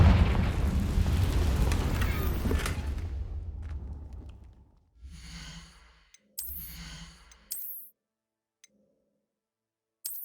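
Confringo blasting spell from Hogwarts Legacy, a loud rumbling burst that fades over several seconds, followed by two shorter whooshing bursts and then near silence.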